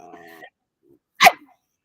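A dog gives a single sharp, loud bark at close range, following a few moments of indoor talk.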